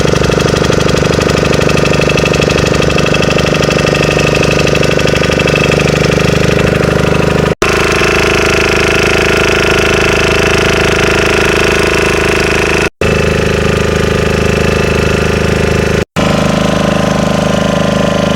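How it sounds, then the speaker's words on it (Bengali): Large fishing trawlers bound for the Bay of Bengal: a loud, close, steady engine drone with a knocking rumble, broken by a few sudden dropouts. "এই যে বড় বড় ট্রলার দেখতে পাচ্ছ, ফিশিং ট্রলার"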